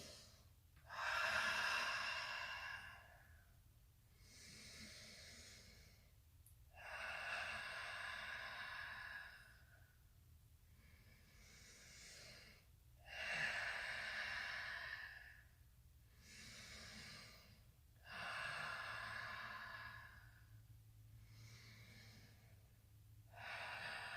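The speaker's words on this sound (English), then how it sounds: "We're going to breathe in and out very powerfully, in through nose, out through mouth" Deep, powerful yoga breathing during a Yin yoga session, long inhales through the nose alternating with forceful exhales through the mouth, a steady cycle of about eight breaths, close and clear with no talking.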